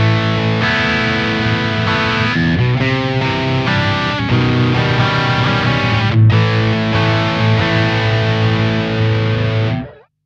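An electric guitar played through a BB preamp pedal on a pedalboard rings out loud and distorted, with sustained chords and picked notes changing steadily for about ten seconds before stopping abruptly.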